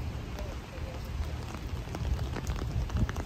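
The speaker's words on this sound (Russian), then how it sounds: "Нам дождливую погоду" Rain falls steadily on a city square in Zurich, a close, continuous patter and hiss of drops on hard surfaces with occasional sharper splashes, at moderate volume.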